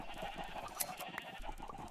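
Sheep bleating in Minecraft, a steady, moderately loud game-animal cry running through the two seconds with a few brief high clicks layered over it and no voices.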